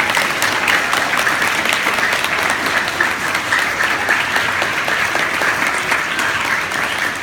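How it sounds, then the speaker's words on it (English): A school audience gives Mr. Frank Rock, the artist, a round of applause at McGrath School: steady, dense clapping from many hands that holds at an even level for several seconds with no talking. "everyone give him a round of applause"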